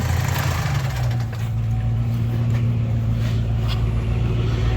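A car engine runs at a steady idle right after its EGR valve was cleaned, a continuous low rumble that settles after a brief dip near the start, close and loud with no talk over it.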